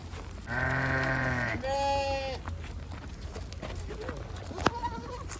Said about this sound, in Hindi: दुम्बे बकरे नज़र आ रहे होंगे।